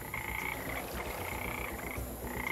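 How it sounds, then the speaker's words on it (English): Small frogs croak steadily by fresh water in a dinosaur video game, a continuous chorus of layered, trilling calls with no speech over it. "They're pretty cool little frogs,"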